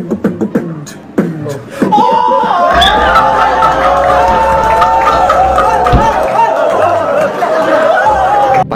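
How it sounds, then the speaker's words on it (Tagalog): A crowd reacting in amazement, a swelling mass of overlapping exclaiming voices and chatter that holds steady for several seconds after a few sharp sounds at the start. "Napawaw agad ang crowd."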